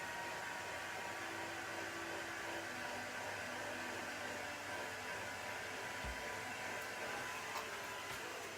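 A heat gun blows on a glitter-coated cup, making a faint, steady airy whoosh with a low hum that holds evenly throughout, without any voice over it.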